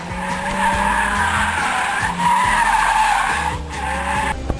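A manual car drifts through a turn, its tires skidding and squealing loudly and continuously over a revving engine, the screech wavering for several seconds with no talk.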